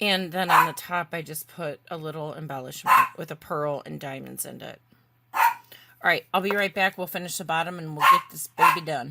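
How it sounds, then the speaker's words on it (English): A dog barks from outside the room, somewhat muffled and intermittent, beneath near, steady talking from a person indoors. "I'm so sorry about the barking"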